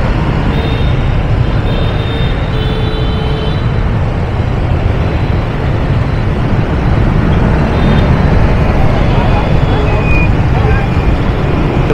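Heavy rush-hour street traffic in Saigon on a rainy afternoon, a steady loud roar of many engines, motorbikes and buses passing nearby, with occasional faint horns.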